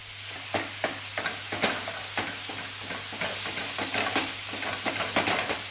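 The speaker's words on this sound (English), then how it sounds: "Just gonna give the beef a stir." Beef mince being stirred in a bowl, a run of close scraping and stirring strokes in a steady rhythm over a faint sizzle and constant low hum, with no voices.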